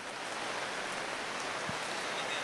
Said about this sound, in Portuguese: mesmo com essa chuva forte